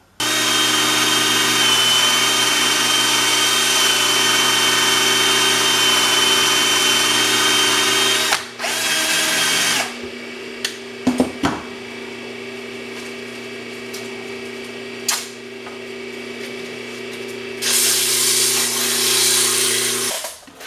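Drill-driven wire brush scrubbing an old pump shaft, a loud, close, sustained whirring grind that runs for about eight seconds, breaks off, then returns in shorter bursts with a steady motor hum underneath throughout.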